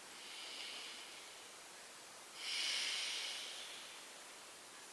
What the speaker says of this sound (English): One last deep breath